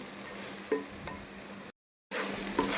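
Stuffed eggplant, gutti vankaya, frying in a pan gives a steady close sizzle with a couple of faint clinks, and a brief silent cut partway through.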